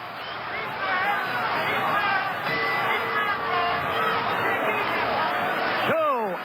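Arena crowd at a boxing match between George Foreman and Ron Lyle, a dense roar of cheering and babble that runs steadily throughout, with a commentator speaking over it.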